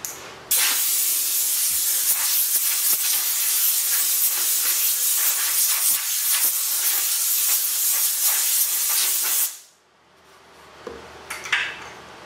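Gouge cutting a large walnut bowl on a wood lathe, a loud steady hissing shear lasting about nine seconds with faint ticks, then stopping to near quiet with a few small clatters.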